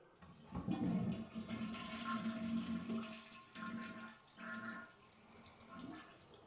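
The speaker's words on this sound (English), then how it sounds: "next thing we're going to do, after we get the water off, flush the toilet." A toilet flushes nearby with a loud rushing gurgle that pulses and fades as the water drains away, with no voices.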